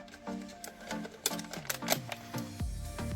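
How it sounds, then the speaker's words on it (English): A knife cutting the bottom off a plastic water bottle: scattered sharp cracks and crinkling clicks of plastic, ending in a low thud as the piece gives way, close and fairly quiet with no talk. "we are going to cut the bottom off this bottle"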